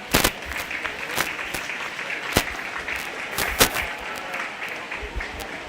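Applause and clapping from an audience at a 4-H and FFA sheep show after exhibitors are ranked, a steady crowd clatter with sharper individual claps standing out, moderately loud and continuous throughout.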